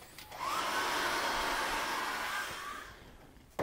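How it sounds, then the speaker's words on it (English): A hairdryer drying acrylic paint whirs steadily at close range for a few seconds, a broad airy hum with a brief click at the very end. "I'm going to dry that with a hairdryer."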